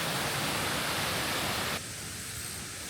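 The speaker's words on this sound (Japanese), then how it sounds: "4段ぐらいの滝になってるんですかね" A multi-tiered waterfall in a gorge in Tottori gives off a loud, steady rush of broadband water noise. The sound softens slightly partway through.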